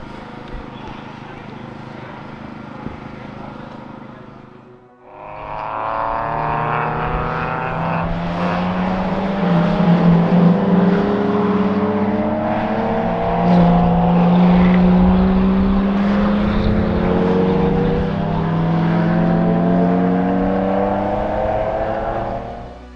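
Porsche race cars head out onto a drying Donington Park track on slicks for qualifying in a Porsche Club Championship round, engines droning steadily and rising in pitch, loud and close, after a brief quiet gap near the start.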